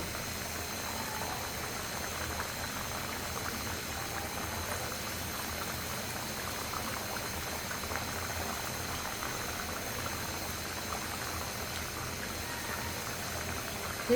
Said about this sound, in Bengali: এখন আমি ভাজা মাছগুলো দিয়ে দিচ্ছি তরকারির সাথে